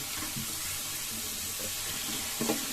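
Onions frying in a pan until they turn red-brown, a steady broadband sizzle that hisses continuously with faint stirring knocks, no voices over it.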